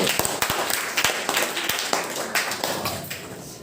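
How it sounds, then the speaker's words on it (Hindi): Students in a classroom clapping their hands, a brisk scattered round of claps with some sharp louder slaps mixed in, close and lively, lasting a few seconds. "ताली बजा दो"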